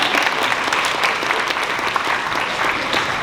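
Dinner-event audience applauding steadily and loudly for about three seconds, a dense, even patter of many hands clapping with no voices standing out.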